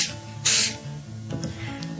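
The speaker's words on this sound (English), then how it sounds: "shake up your can and then spray over your clipping on one side, flip it over, and spray it on the other side." A spray can of clear protective lacquer hisses in one short burst over a paper clipping, close and moderately loud, followed by faint handling sounds.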